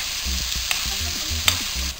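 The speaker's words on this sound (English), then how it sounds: "just tilt the pan to one side like that and just get the juices and just baste over the meat there" Pork frying in a tilted pan while hot pan juices are spooned over the meat, a continuous close sizzle with rhythmic scraping and light clinks, no voices.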